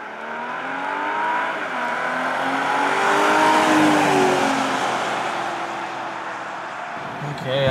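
A 2012 Audi A6 Premium 3.0T supercharged Quattro sedan drives slowly through fresh snow, its engine a steady close-up hum with shifting tones that rises briefly and then eases off, while a voice talks over it.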